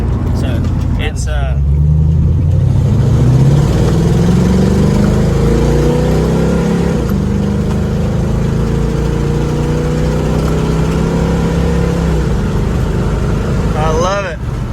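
A 1969 Mach 1 Mustang barn find runs close by, its engine rumbling loud and steady with a long rising rev and slow fall, a voice briefly heard near the end.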